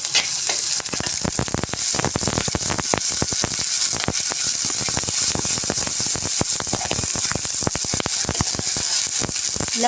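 Ginger paste frying in a pan while chicken biryani is being made, a steady dense sizzle with crackling pops running throughout, close and loud with no talk.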